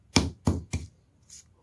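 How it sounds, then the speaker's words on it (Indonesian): Spices for pindang fish seasoning are pounded in three firm, close thuds in quick succession, followed by a fainter light knock, with no voices. "Geprek-geprek dulu biar lebih mudah untuk menghaluskan"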